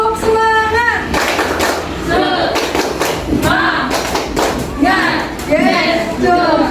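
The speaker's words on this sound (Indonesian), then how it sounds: "Mengulangi lagi, tepuk semangat supaya pembelajaran hari ini selalu semangat." Classroom of pupils doing the tepuk semangat clapping chant during a civics lesson in Indonesia, with bursts of rhythmic group clapping mixed with children's chanting voices, loud and close.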